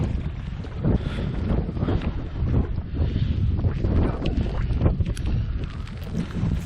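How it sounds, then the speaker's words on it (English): Strong wind buffets the microphone on a mountain path up Helvellyn from Patterdale, a loud continuous roar with gusting rumble throughout, no voices. "So it's really windy today, a bit chilly down here."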